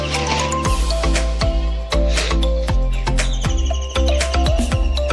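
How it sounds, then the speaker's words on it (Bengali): Pigeons let out of their coop, a cluster of birds making short chirping and cooing calls with soft flapping, close by and fairly loud over a steady low background hum. "চলো আগে পায়রাগুলোকে ছেড়ে দেওয়া যাক।"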